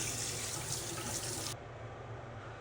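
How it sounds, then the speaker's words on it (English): Tap water runs steadily into a sink while a face is rinsed, a close, constant splashing rush that drops in level partway through and continues more softly. "we're gonna rinse our face and we'll be back."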